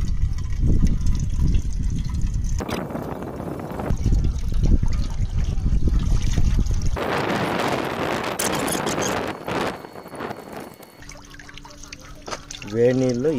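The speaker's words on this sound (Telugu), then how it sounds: "ఇందు లోపల ఉండేటటువంటి ఈనో వాటర్ ఏదైతే ఉందో దాన్ని అయితే డ్రైన్ చేసేస్తున్నాను" ENO-treated water drains out of a bike engine during a flush, pouring and trickling in steady bursts close by while someone talks over it.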